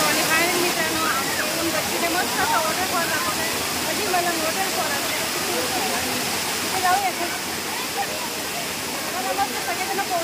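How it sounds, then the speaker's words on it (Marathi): A secret waterfall at Shri Malanggad near Kalyan in the rainy season roars as one loud, steady rush of falling water that never lets up. "आपण आता वॉटरफॉलच्या जवळ आलेलो आहोत"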